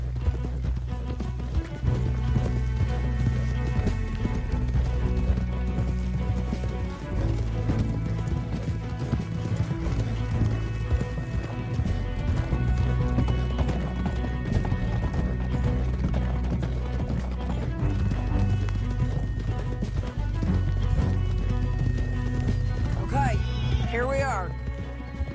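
Horse hooves clop in a quick, steady gallop throughout the video game Red Dead Redemption 2, with a neigh near the end and voices talking over the rhythm.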